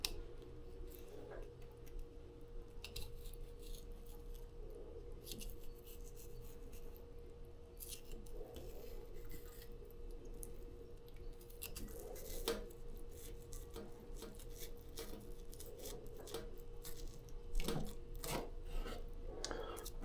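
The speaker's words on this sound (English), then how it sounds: "I'm going to run it along this backbone here." A knife runs along the backbone of a scaled Copper River king salmon, giving a steady quiet rasping and scraping with soft repeated strokes, closer scrapes and knocks near the end, and no talking.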